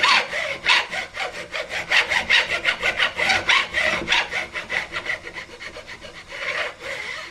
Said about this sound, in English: we're going to take a file and just run it across like this, and you can hear when you get to the wood